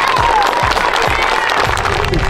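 A crowd at a football camp claps steadily with scattered cheers, a dense patter that runs throughout with a voice speaking over it.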